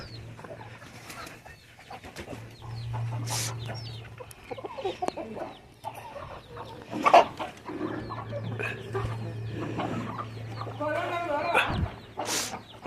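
Double body breed hens on a farm cluck and call intermittently, with occasional louder squawks among other fowl sounds over a steady low hum throughout, and some voices faintly in the background.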